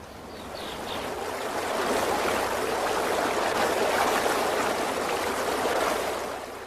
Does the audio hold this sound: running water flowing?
yes